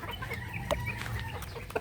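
Mitrablue Speeder grey chickens cluck steadily at close range, a dense layer of soft, overlapping calls with a couple of sharper peeps standing out, no voices.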